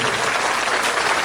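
An audience applauds at a forum launch event, a dense, steady burst of many hands clapping together, loud and close, with no speech over it.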